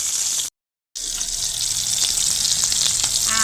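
Spicy masala-coated fish fries in a pan, a loud continuous sizzle and crackle of hot oil filling the sound, broken once by a short silent gap before resuming steadily.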